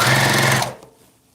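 A sewing machine runs loud and close while stitching a shirt sleeve, a fast steady motor buzz that stops abruptly after about two-thirds of a second.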